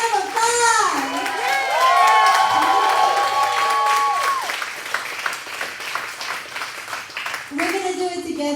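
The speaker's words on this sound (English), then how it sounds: "I give you all a round of applause" Crowd at an Atlanta political event applauding and cheering, a loud burst of clapping with shouts and children's voices, swelling at first then thinning as a speaker's amplified voice carries over the top.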